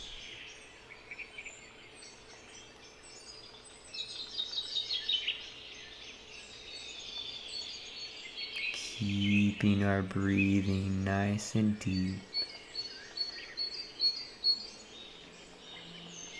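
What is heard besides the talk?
birds chirping and chattering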